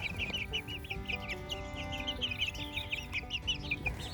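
Young chicks in a large new enclosure cheep and cluck without pause, a dense flock of high chirps layered over a steady low background, with no talking.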